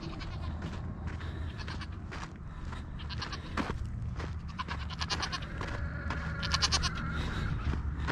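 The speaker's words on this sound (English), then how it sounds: "gotta feed the goats" Goats bleat excitedly and repeatedly at feeding time, several overlapping loud, wavering calls close by with barn rustling underneath.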